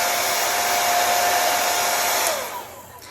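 Hair dryer blows heat onto a synthetic wig, a loud steady whoosh with a faint tonal whine that drops and fades as it switches off near the end.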